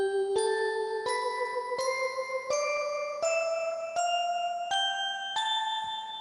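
Electronic organ playing a bell voice layered with flute 8 and flute 4 stops, a rising sequence of about nine bright chime notes, each struck cleanly and ringing into the next, close and alone.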